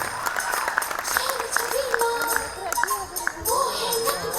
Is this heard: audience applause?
yes